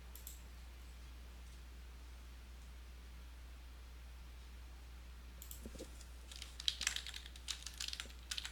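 Computer keyboard typing at a 3D modeling workstation, faint clicks beginning in scattered bursts during the last few seconds over a steady low hum.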